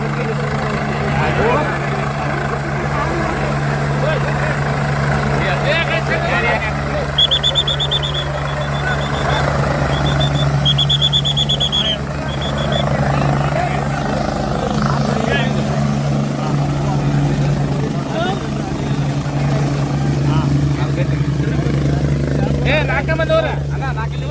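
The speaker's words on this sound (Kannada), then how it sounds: "ಅವರ ಹೆಲಿಕಾಪ್ಟರ್ ಈಗ ಲ್ಯಾಂಡಿಂಗ್ ಆಗ್ತಾ ಇದೆ" A helicopter landing at Ambargatti village: a steady, droning rotor and engine hum runs throughout, with a crowd talking over it and occasional high beeping tones.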